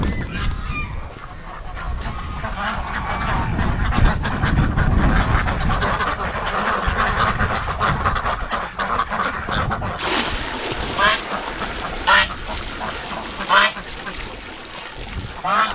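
Farm geese and ducks honk and quack in a noisy flock, the calls close and overlapping with some sharp honks standing out, alongside low machine rumble and occasional talk.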